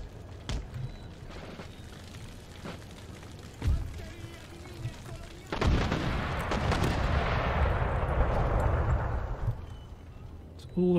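Booming cannon fire from the video game Empire: Total War, with a couple of distant thuds, then a heavy rolling barrage that rumbles on for several seconds while someone talks over it.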